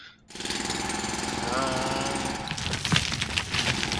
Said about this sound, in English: Just go up and drill it.